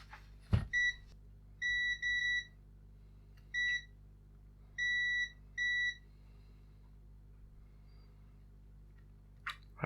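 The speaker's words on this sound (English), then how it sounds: "Get the beeping device out." Continuity tester beeping while probing points on the circuit board of a PC Engine Core Grafx Mini with dead USB ports: several short, clean electronic beeps in separate bursts over a low steady hum, with a couple of clicks.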